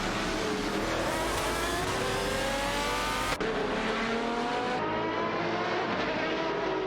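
Several race cars, including Koenigsegg CCGTs, scream along in a racing video game, engines droning loud and continuous with shifting pitch as they jostle, broken by a sudden cut partway through before the roar carries on.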